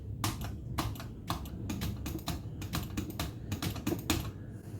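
Rapid computer clicking and tapping close by, a dense irregular run of crisp clicks continuing steadily throughout with no voices.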